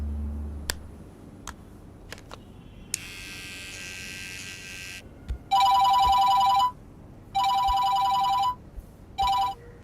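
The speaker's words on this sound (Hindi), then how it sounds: "कुछ देर से एक ही नंबर से कॉल पे कॉल आ रहे हैं।" A telephone rings in three electronic bursts, the last one cut short, after some quiet clicks and a brief buzzing tone, as repeated calls come from an unknown number.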